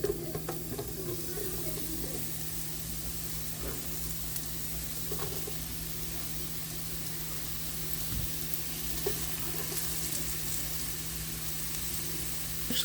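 Sliced mushrooms frying with garlic in a pan, giving a steady, close sizzle that holds unbroken throughout, with faint scrapes and clinks of stirring.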